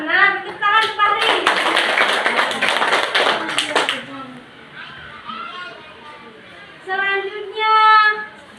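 A classroom claps for a student named Fahri during a teaching simulation, a burst of dense clapping lasting a few seconds, with voices speaking before and after it.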